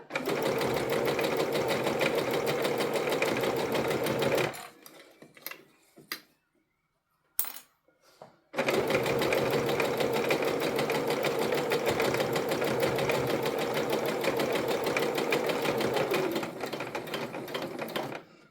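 Sewing machine stitching a fabric tote bag, running in long steady bursts before and after a pause of several seconds with a few soft clicks as the needle is set down at a corner and the presser foot is lifted and lowered.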